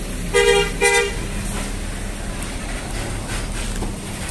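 An MPM Velago bus sounds two loud honks of its horn at a highway bend in West Sumatra, followed by the steady rumble of its passing engine and road noise.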